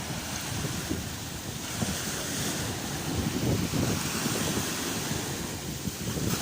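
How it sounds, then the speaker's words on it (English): Ocean waves wash onto a beach on a windy day during the 2024 total eclipse, a steady rushing surf with wind buffeting the microphone throughout. "there's some big waves coming"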